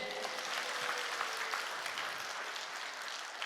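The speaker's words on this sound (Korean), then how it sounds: "하나님께 영광의 박수 크게 해요" Church congregation applauding together at a prayer retreat service, a dense, steady wash of clapping hands from a large crowd that holds evenly throughout with no speech over it.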